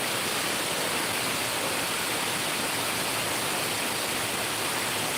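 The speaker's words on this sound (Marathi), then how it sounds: "पाऊस हा जोरदार आहे" Heavy monsoon rain pours down at Amboli in the Konkan, a dense, even roar of water that fills the whole stretch without pause and with no voices.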